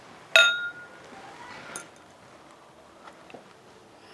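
Glasses clink together once in a toast, giving a sharp ringing chink that decays quickly. A few softer clicks follow over faint room noise.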